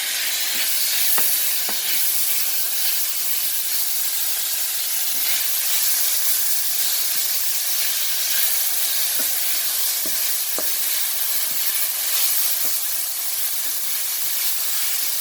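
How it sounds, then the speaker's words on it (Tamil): Chopped tomatoes tipped into a hot pan of frying egg fried rice base sizzle with a steady, loud hiss of steam and fat, broken by occasional sharp clicks and stirring scrapes, with no talk. "இப்போ நாங்கள் வெட்டி வச்சுக்கிற தக்காளி பழம் போடுறேன்."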